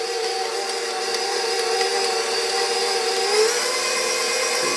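An electric mixer whirs steadily through cookie dough made with stout and espresso, a loud continuous motor hum with no voices.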